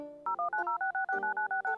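Rapid sequence of about a dozen touch-tone dialing beeps from a phone in a Roblox game, short steady tones in quick even rhythm with brief gaps, loud and close with no voices.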